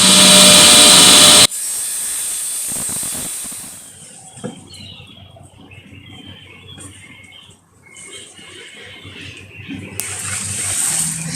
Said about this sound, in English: I'm going to go ahead and cut 2 more pieces of wood just like this